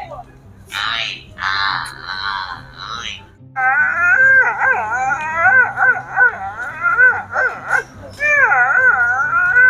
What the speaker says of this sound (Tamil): அங்கே ஏதோ ஒரிஜினல் நாய் கத்துது